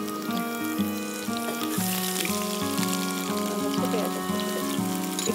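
Chopped onion fries in hot oil in a cooking-show kitchen, a steady dense sizzle with crackles, heard beneath a voice and a melodic tune playing alongside.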